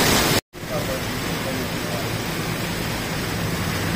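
A hailstorm with heavy downpour hits an open square in front of the manege in Kursk, a dense, steady hiss of pelting ice and rain after a brief dropout, continuous and close with no other sounds standing out.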